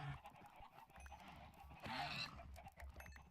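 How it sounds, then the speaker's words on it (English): Chickens in the Minecraft video game squawk and cluck as they are attacked, several faint, quick bird cries over a low, quiet game background. "I just murderized a whole bunch of chickens."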